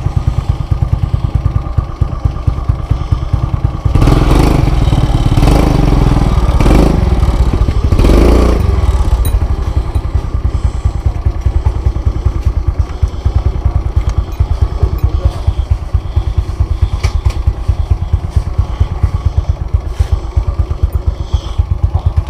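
A motorcycle engine runs steadily throughout while riding on a narrow road, with a clattering idle-like rumble and a louder surge partway through, close to the listener.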